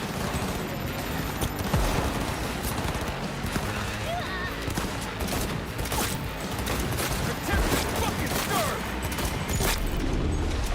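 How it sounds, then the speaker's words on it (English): Police gunfire rattles through a Cyberpunk 2077 street fight, dense bursts of shots layered with game mechanisms and effects, steady and loud throughout with no pauses. "I think the cops are shooting me"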